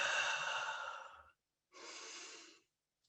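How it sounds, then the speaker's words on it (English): Two slow, deep breaths close to the microphone, a long airy inhale followed after a short pause by a softer exhale, quiet and alone during a calm guided breathing exercise. "Breathe in."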